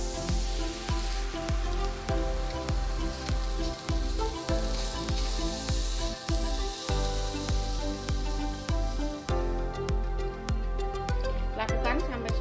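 Tofu satay skewers sizzle on a grill, a loud, steady frying hiss with regular rhythmic clicks and taps running throughout.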